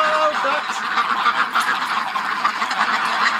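A small flock of ducks quacks and honks in a dense, steady chorus of overlapping calls, close and fairly loud throughout.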